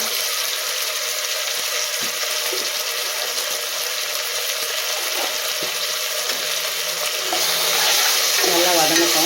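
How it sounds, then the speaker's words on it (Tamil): Onions sauté with ginger garlic paste in a pan for a mushroom biryani, giving a steady, close frying sizzle with occasional stirring scrapes and no talk. "வெங்காயம் நல்லா வதங்கிடுச்சு. கொஞ்சமாக நம்ம இஞ்சி பூண்டு பேஸ்ட்டு சேர்த்துக்கலாம்."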